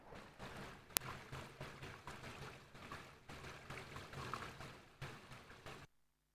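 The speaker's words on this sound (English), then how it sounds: "There's a little waterfall" A small waterfall flows under a little bridge, a continuous pouring rush with a slightly hollow, enclosed tone, surging in gentle waves before cutting off abruptly near the end.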